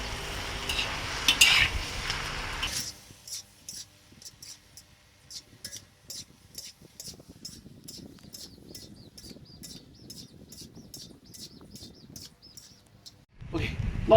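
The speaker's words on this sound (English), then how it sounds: "Now you mix them all up." Mala vegetarian noodles being mixed and stir-fried in a pan: a soft, steady sizzle under a rapid, regular clatter of utensils tossing and scraping, with louder background noise at the start and end.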